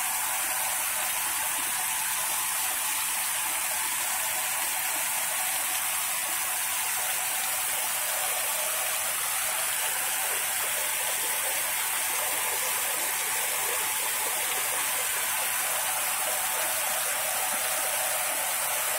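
Heavy rain pours down in a sudden storm with strong wind on a Bohol island, a dense, continuous roaring hiss that holds steady throughout, with no voices.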